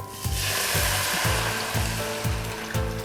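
Fish soup stock poured into stir-fried chili paste for a spicy fish curry with cha-om, giving a loud hissing sizzle over a steady rhythmic thumping in the background, with no talking.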